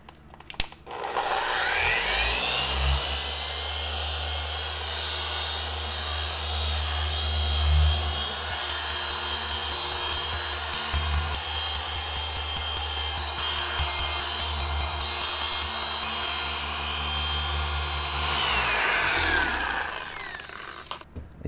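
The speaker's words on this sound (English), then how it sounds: "with the microfiber cutting pad from Meguiar's on my Rupes 3-inch polisher" A Rupes 3-inch polisher fitted with a Meguiar's microfiber cutting pad whirs steadily at close range as it polishes car paint. It spins up at the start and runs at an even pitch for about twenty seconds, with light rubbing noises, before winding down.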